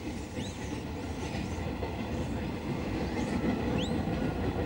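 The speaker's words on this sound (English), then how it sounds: "watching the trains go by" Trains rumbling past in a steady, loud low roar with rhythmic wheel clatter and occasional high metallic squeals.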